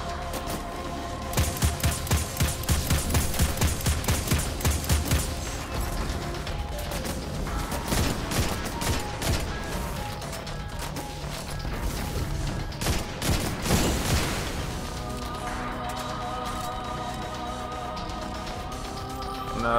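Gunfire from a weapon in Destiny 2 comes in rapid bursts of close, loud shots, followed by mechanical clicks and clatter as the weapon reloads, with game effects continuing afterward.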